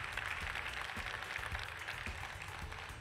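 Steady applause from an audience at the Trophées de l'innovation Hlm 2023 award ceremony, a dense crowd clapping continuously at moderate distance.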